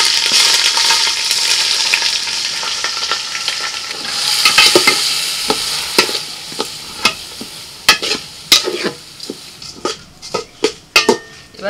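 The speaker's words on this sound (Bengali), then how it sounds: "এবার চালটা একটু ভেজে নিতে হবে," Washed rice with ginger paste and salt sizzles in a pan over whole spices, a soft frying hiss joined by a string of sharp stirring scrapes and taps that grow more frequent and louder toward the end.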